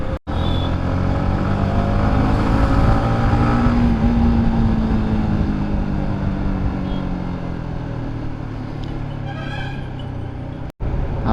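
A Yamaha MT-15 motorcycle rides through traffic on a road near Indapur in Konkan. Its engine hum and steady road and wind noise run loudly and continuously through the ride, with a brief dropout near the start and another near the end.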